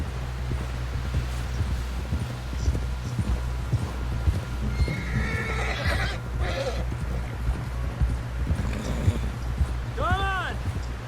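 A horse in the video game Red Dead Redemption 2 clip-clops steadily along under game music and voices, then gives a clear whinny near the end.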